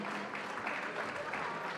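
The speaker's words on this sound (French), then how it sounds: "on peut les applaudir très très fort" Brief burst of audience applause at a business purchasing awards ceremony, a dense, even patter of clapping from a seated crowd, fairly soft and steady over a couple of seconds.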